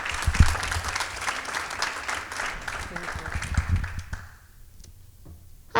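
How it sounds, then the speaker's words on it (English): An audience applauds at a nonprofit awards ceremony honoring a crawfish festival steering committee member, a dense burst of clapping lasting about four seconds before fading to quiet. "A round of applause for Laurel, everybody."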